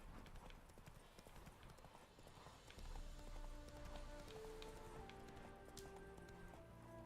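Roach, a horse in The Witcher 3 video game, gallops with quick rhythmic hoof clip-clops under steady background noise, while soft tonal game sounds come in partway through.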